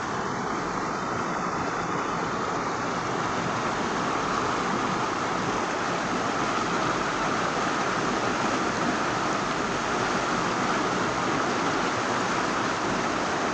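Water rushes fast from an opened dam gate in a loud, steady, close roar of broadband noise that continues unbroken, with no voices.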